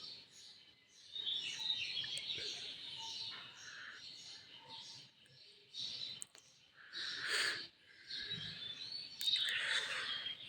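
Chirping birds call in short, bright bursts on a village morning walk, some brief and some longer and layered, heard at a moderate distance with faint background movement.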